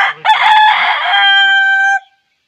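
A single loud, close rooster crow, rising and holding for about two seconds before cutting off into silence.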